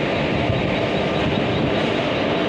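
A train at Lonavala station, where only locomotive engines stand, gives off a steady, loud broadband rumble and hum with no pauses and no voices.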